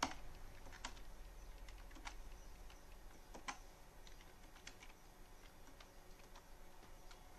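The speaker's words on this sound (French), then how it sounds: "là je tape Show SSI" Someone types on the keyboard of an Intergraph 2000 terminal, producing a quiet, irregular run of sharp clicky keystrokes over a faint steady hum, with no talking.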